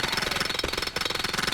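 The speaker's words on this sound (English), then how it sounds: "And just like that, we are through. We've finished drilling." Steady mechanical drilling through a wall in the game Cataclysm: Dark Days Ahead, a dense rapid rattling hammer rhythm that runs loud and unbroken apart from one brief dip midway.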